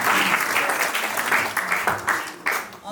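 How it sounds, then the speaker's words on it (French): Applause at a civil wedding ceremony, a loud, close burst of many people clapping with uneven swells and dips over a few seconds. "On applaudit pour lui."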